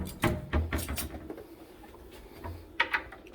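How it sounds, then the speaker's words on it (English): A hidden side cabinet in an 1882 house in Massillon, Ohio is pulled open, giving a few soft wooden knocks and thuds followed by quieter shuffling, close by and without talking. "We will go in the hidden side cabinet here."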